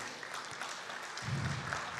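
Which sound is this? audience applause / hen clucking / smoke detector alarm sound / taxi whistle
audience applause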